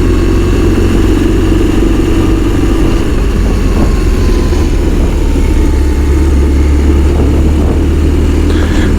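A 2005 BMW R1200RT boxer-twin motorcycle engine idles cold on a 10-degree day, a steady low rumble that stays loud and continuous throughout, with no voices.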